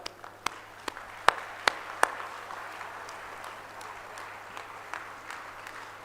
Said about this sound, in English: Now you clap.